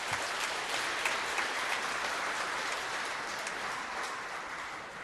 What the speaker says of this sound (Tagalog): So pumalakpak po yung masaya sa buhay.